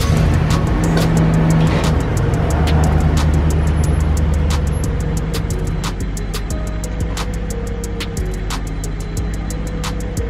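A truck and a 2021 MK5 Toyota Supra 3.0 being driven out of a garage and down a home driveway: steady close engine and tire rumble, continuous and fairly loud, with sharp clicks and ticks scattered across it, no talking.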